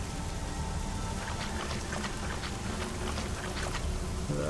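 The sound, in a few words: torrential rain in a video game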